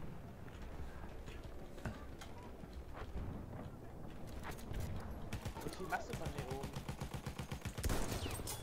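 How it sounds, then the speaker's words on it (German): Gunfire aimed at a tank in Battlefield 1, repeated shots in quick bursts under near-constant talking, with a rapid stretch of fire toward the end. "Ein Panzer, auf den ich schieße gerade."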